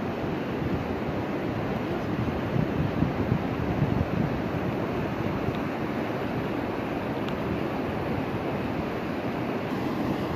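Rushing water of the Khingob river, a steady broadband roar of flowing water and wind close to the microphone, continuous without pauses.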